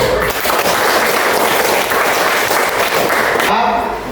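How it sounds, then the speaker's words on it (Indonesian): Classroom applause from students following a teacher's prompt during an Indonesian school lesson, loud dense clapping filling the room for several seconds before tapering off abruptly. "Tepuk tangan."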